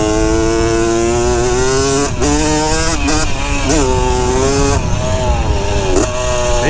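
A 1981 Honda CR80 motorcycle engine runs loud and close, with a buzzing steady note and several quick revs that rise and fall over the idle.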